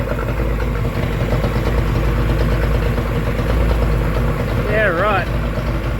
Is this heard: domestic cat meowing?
no